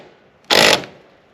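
Lag screws being driven by a power tool into century-old garage wood: one loud, close, harsh buzzing burst of about a quarter second, then quiet.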